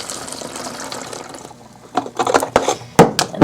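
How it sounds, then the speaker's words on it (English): Water pours in short gushing bursts into a bottle already holding plaster of Paris powder, splashing and gurgling close up, with quiet moments between pours. "Once you get the plaster of Paris into the bottle, all you want to do is add 4 ounces of water."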